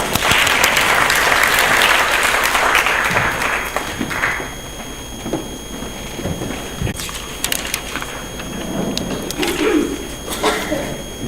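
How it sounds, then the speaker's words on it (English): A university community engagement conference audience gives a loud round of applause that fades after a few seconds into scattered claps, shuffling and room noise. "Can we please give him a round of applause?"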